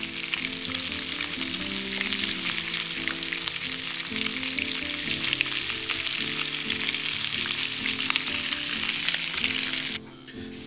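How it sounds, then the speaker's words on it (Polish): Chicken cutlets sizzle and crackle steadily in a hot pan, a close, continuous frying hiss with soft music underneath and no talking. "I smażę je następne 3-4 minuty, aż będą chrupiące."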